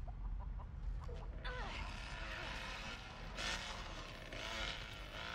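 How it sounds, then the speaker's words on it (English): Chickens clucking faintly in The Texas Chain Saw Massacre video game, scattered soft clucks under a constant low rumble of game ambience. "You're setting the chickens off."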